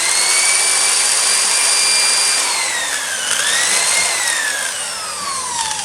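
A power drill bores into a braided steel hydraulic hose that is not under pressure, giving a loud, sustained high-pitched whine whose pitch sags and rises as the bit bites into the metal braid.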